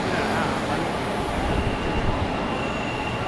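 Vande Bharat train passing through Kaikaluru railway station, a steady loud roar of wheels on rails with a faint high squeal running throughout.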